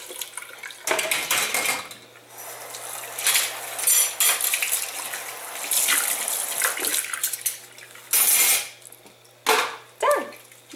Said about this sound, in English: And you can rinse that off and then use your washcloth to rinse.